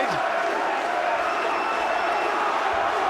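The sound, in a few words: crowd cheering at ringside after a boxing knockdown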